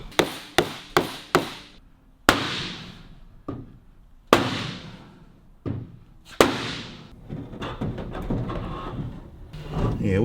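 Hammer blows on Austin 10 car body panels being beaten to fit: a quick burst of four sharp strikes, then heavier, ringing metallic whacks spaced a second or two apart, loud and close.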